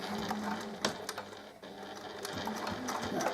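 A sewing machine runs close up, stitching along the thick edge of a fabric pouch with a fast mechanical whir and rhythmic needle clatter, briefly slowing midway before picking back up.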